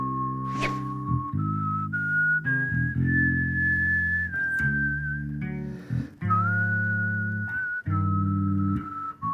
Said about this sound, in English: What if I try and play the chords and whistle the melody?